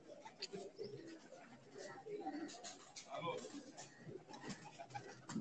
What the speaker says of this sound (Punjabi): ਕਬੂਤਰ